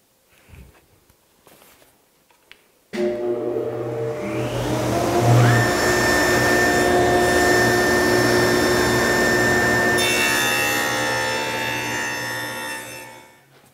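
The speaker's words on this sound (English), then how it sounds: "I've got the 1/4 inch dado stack set up in the saw now, and all I'm going to do is cut that rabbet on the back of each panel" A table saw fitted with a 1/4 inch dado stack cuts a rabbet along the back of a wood cabinet panel, a loud steady whine that starts abruptly, holds for about ten seconds and then tapers off, following a few quieter knocks.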